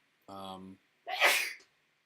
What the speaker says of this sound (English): big sneeze from the producer.